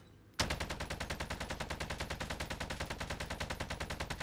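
A P90 fires in the Warzone video game, opening abruptly into a long, steady, rapid burst of automatic gunfire that stays loud and close, with no talk over it.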